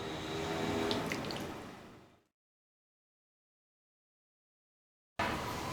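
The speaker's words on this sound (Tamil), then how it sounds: "கழுவி சுத்தம் பண்ணி எடுத்துருக்கிற 400 கிராம் சிக்கன் அதை சேர்த்துடலாம்." About 400 g of washed, wet chicken pieces tumble into a pan with a loud, squishy, splashing slosh for two seconds, then abrupt silence before the sound briefly resumes.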